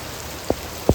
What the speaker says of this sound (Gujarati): જો લાઈવ વરસાદ છે, ક્ષેત્રમાં પાણી ભરવાનું ચાલુ થઈ ગયું છે.